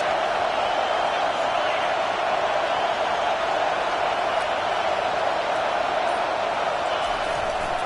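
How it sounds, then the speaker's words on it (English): A football stadium crowd at a Michigan game roars for its defense on third down, a dense, sustained wall of noise that stays loud and unbroken throughout. "this crowd will blow out a vocal cord to help this defense"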